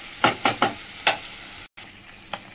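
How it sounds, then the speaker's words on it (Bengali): Crushed garlic, green chilies and onion fry in oil, giving a low steady sizzle broken by several sharp scraping stirs of a spatula, with a brief dropout midway. "4-5টা রসুন থেতো করে দিয়েছি, কটা কাঁচা লঙ্কা দিয়েছি, একটা পেঁয়াজ দিয়েছি, আর নুন হলুদটা দেবো, দিয়ে ভাজা ভাজা করবো"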